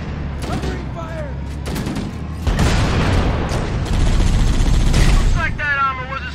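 Gunfire in the video game Halo: loud, close bursts of rapid weapon fire with booming impacts, building into sustained shooting, with voices shouting over the battle.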